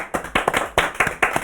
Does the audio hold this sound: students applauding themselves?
yes